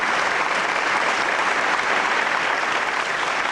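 Sustained, loud applause from a big crowd at a Hindi kavi sammelan honoring Bachchan, many hands clapping in a thick continuous wash without pause.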